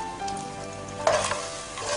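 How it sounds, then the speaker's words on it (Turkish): Chopped, salted onion sizzles in hot oil for lentil meatball soup, a steady crackling hiss with one louder spatula scrape midway and lighter stirring after. "Ve soğan pembeleşene kadar kavuruyoruz."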